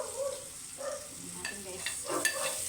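Garlic, onions and carrots fry in a pan for macaroni with cheese, making a soft, low sizzle with occasional light clinks and stirs, and a faint voice comes through underneath.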